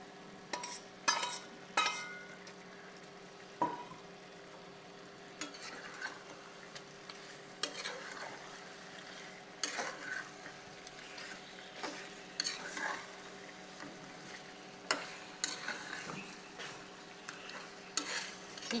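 Spinach goes into a pan of oily chicken being cooked for palak chicken, with a quiet sizzle under repeated scraping and clacking stirring strokes at an irregular pace, close up and fairly soft.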